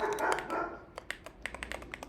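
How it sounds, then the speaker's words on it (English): Dogs bark in the background while a computer keyboard is typed on nearby, giving a series of faint, quick clicks after an initial burst of louder noise. "Sorry for the barking dogs"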